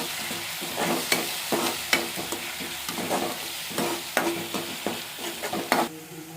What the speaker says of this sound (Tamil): இப்போ இந்த மசாலாவுடைய பச்சை ஸ்மெல் போகிற அளவு நம்ம நல்லா வதக்கிக்கலாம்.